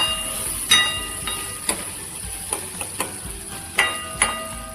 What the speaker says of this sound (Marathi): कांदा असा लालसर भाजून घ्यायचा आहे